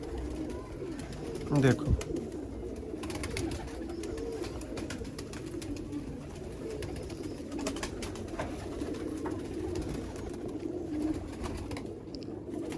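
Rare teddy pigeons cooing steadily at a loft, a low continuous murmur of coos under occasional nearby speech and background activity.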